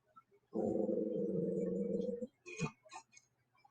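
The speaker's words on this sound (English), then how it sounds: "Crazy dog." A dog gives a single low, rumbling growl lasting nearly two seconds, close and fairly quiet, followed by a few faint ticks and clicks.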